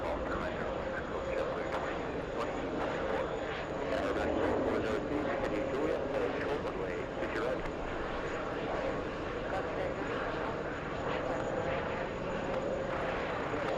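A Lufthansa airliner comes in to land at an airport, a steady, broad engine roar heard from a distance that stays constant throughout, with people talking over it.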